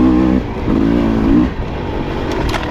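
Dirt bike engine revving nearby, a loud rising and falling motor drone in a few surges that settles to a lower rumble.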